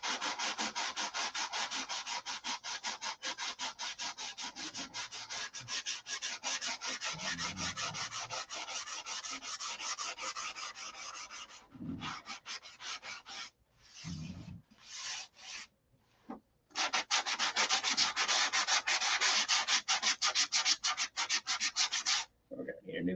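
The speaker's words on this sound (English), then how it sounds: "We're gonna need a new piece of sandpaper." A SIG Magnum guitar body sanded by hand with sandpaper, a close, loud, rapid back-and-forth rasping that runs in long stretches and is broken by short pauses before the scrubbing resumes.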